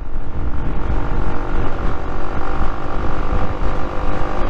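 Honda CG125 motorcycle engine running and straining under throttle on a farm hill ride, unable to reach wide open throttle; a steady, rough low drone with pulsing loudness and no voices.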